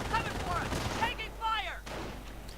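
Bursts of gunfire crackle in a World War II strategy video game, a continuous rattling barrage with a sharper crack just past the midpoint, heard alongside whistling, warbling game effects.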